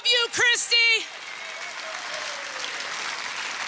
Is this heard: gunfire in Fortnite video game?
no